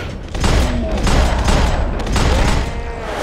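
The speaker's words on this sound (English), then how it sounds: "Look at that shooting." Loud shotgun blasts and heavy gunfire from the video game Max Payne 2 come in booming, repeated bursts, with faint speech in the background.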